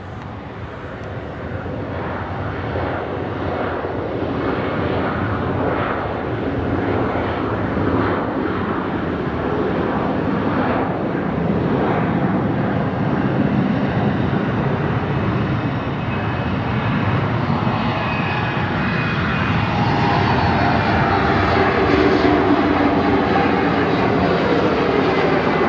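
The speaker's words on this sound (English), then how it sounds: "this is Qantas Link 1937 rolling now, and Embraer 190 heading off to Adelaide tonight" An Embraer 190 airliner taking off at night from Brisbane Airport, its engine roar loud and steady throughout, building slightly in strength toward the end with no talk over it.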